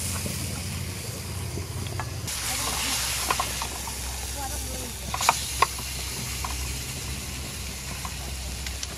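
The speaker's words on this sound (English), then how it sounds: "Is it sizzling?" Food cooking in butter on a campsite stove gives a steady broadband hiss with faint crackles and a few sharp pops, with people talking quietly nearby.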